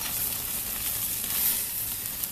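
Bacon-wrapped asparagus sizzles loudly and continuously in a hot pan as the pieces are turned, a dense crackling hiss held close and even throughout.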